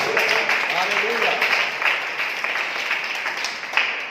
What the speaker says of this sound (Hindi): तालियां बजाकर रखिए,